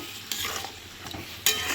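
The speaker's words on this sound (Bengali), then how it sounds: "দিয়ে ভালো করে কষাবো।" A fine spice paste of chilli powder, turmeric and salt is stirred and fried in a kadai for Bengali-style khichdi, quiet steady sizzling broken by a few spatula scrapes and a louder stir near the end.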